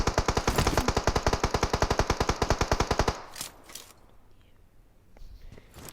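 Rapid, evenly spaced automatic gunfire rattles loudly for about three seconds in PUBG Mobile on the Livik map, then gives way to quieter scattered shots and ambient noise.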